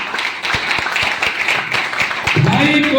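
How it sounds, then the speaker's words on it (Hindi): An audience at a direct-selling training event claps in a loose, spread-out burst of individual hand claps, fairly close and loud, ending with a voice calling out over it. "जोरदार तालियां होनी चाहिए"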